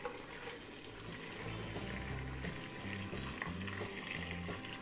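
Pre-boiled water pours into a pot in a steady continuous stream, fairly faint, with a low hum running underneath.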